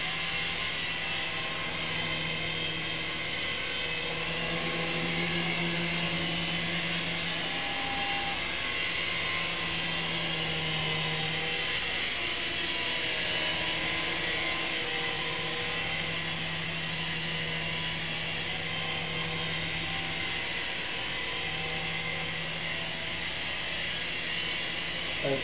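A Syma S109 Apache toy RC helicopter in flight gives a faint, steady electric whine with a fluttering rotor buzz, holding a constant pitch with slight wavering throughout.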